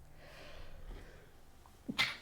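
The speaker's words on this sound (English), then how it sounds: "About to sneeze." A single sharp sneeze bursts out near the end, preceded by a quick inhale, after a stretch of quiet room tone.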